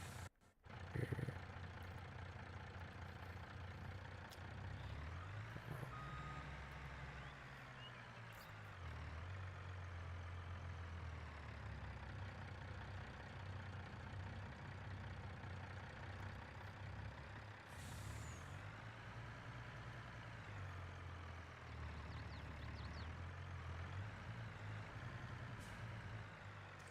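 A tender truck engine drones steadily and loudly in Farming Simulator 22, rising and falling slightly over nearly half a minute, broken by a couple of short hissing bursts, with no talking.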